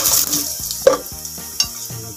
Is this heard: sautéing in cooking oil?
yes